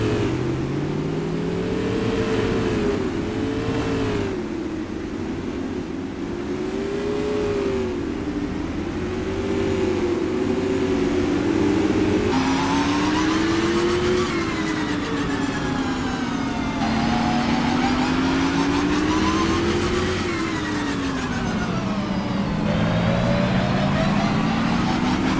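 125 Supermodified race cars roar around Madera Speedway in a sim racing game, a loud, continuous drone of several engines whose pitch repeatedly swells and dips as the cars race past.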